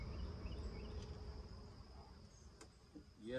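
Honeybees on a queen excluder during a hive inspection give off a faint, steady buzzing drone with light handling knocks near the end.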